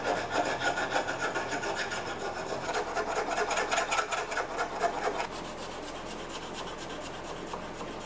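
A camp cleaver blade is sharpened with rhythmic rasping strokes of a file or stone against the steel, close and fairly loud, the scraping pulsing in quick repeated passes before easing into a quieter steady rub.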